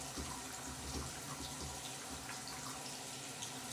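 Water gushes steadily from a tap into a sink as it warms up, a constant close hiss and splash with no pauses or talk.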